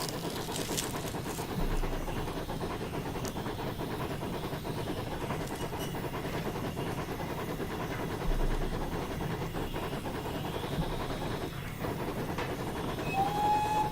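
GWR steam locomotive No.4639 works along the Vale of Neath Line up a steep gradient, its continuous rumbling chuff and rolling wheel noise steady throughout, with a brief whistle-like tone near the end.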